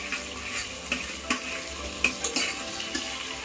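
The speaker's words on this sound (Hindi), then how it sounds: "प्याज को थोड़ी देर के लिए भून लूंगी मैं, हल्का सा ट्रांसपेरेंट हो जाए इसमें।" Onions sizzle steadily while frying in a pressure cooker for pulao, with a spoon stirring and scraping against the metal in several short, clattering strokes over the continuous close hiss.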